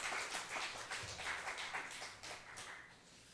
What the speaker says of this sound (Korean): 박수를 드리도록 하겠습니다